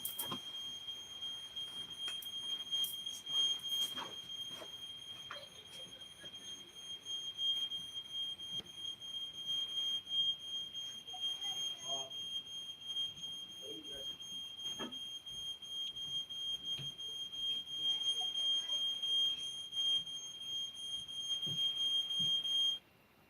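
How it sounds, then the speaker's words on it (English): A smoke-style alarm sounding continuously, a piercing high steady tone running on for over twenty seconds alongside faint background clatter, then cutting off abruptly. "It's just the alarm."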